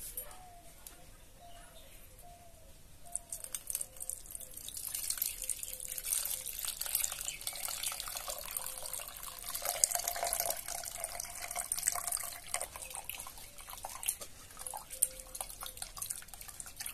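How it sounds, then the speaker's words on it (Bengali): Raw mango pulp is strained through a sieve, giving a soft, close patter of watery dripping and trickling that builds steadily while birds chirp faintly in the background. "এবার ছাঁকনায় ছেঁকে নেব।"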